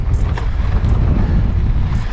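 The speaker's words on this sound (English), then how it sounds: "It's really windy up here." Strong wind buffeting the microphone on an exposed hilltop along the Pennine Bridleway, a loud continuous low roar with gusty rumble throughout and no voices.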